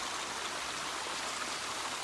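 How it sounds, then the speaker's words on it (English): A garden water feature's winding stream and waterfall give a steady, broadband rushing wash of falling water, even and unbroken, with no voices. "I hope you can hear me over the water feature"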